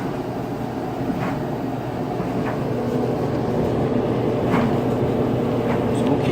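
A clothes dryer set to high heat runs with a steady low rumble and tumbling hum, occasional soft knocks breaking through the constant drone at close range.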